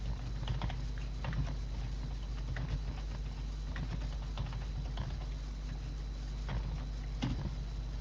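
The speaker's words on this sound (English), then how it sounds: "Ah, stupid keyboard." Typing on a computer keyboard, soft irregular key clicks and taps in scattered bursts over a steady low hum, fairly quiet, with no talking.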